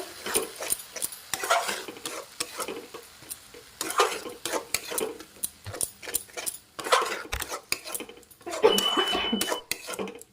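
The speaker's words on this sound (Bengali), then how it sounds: "ভালো করে নাড়াতে হবে" A spoon stirs Punjabi-style fenugreek-leaf yogurt curry in a pan, with repeated close scrapes and clinks against the metal over a soft, steady sizzle, and no talking.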